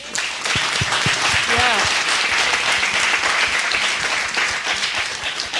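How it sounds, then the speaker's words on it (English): Audience applauding at a live talk-show event, a dense steady round of clapping filling the room for several seconds with a voice briefly cutting through partway. "I want to get a round of applause for you guys for putting this event together"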